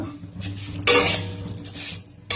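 Semolina fried in ghee with sugar, cashews and raisins in a pan, heard as bursts of scraping and clinking from stirring against the metal, fairly close, with no voices.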